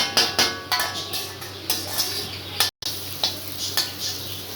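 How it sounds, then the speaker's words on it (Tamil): Metal spatula tapping and scraping in a pan while egg fried rice cooks, a steady run of sharp close clinks over a faint sizzle, with no speech. "தட்டி தட்டி தான் செய்யணும் அப்போ தான் ஃப்ரைட் ரைஸ் செய்கிறோன்னு தெரியும்"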